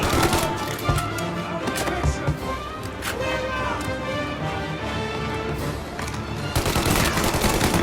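Gunfire from a shootout in the video game Mafia: Definitive Edition, dense bursts of shots running throughout amid game noise, with voices shouting over the action.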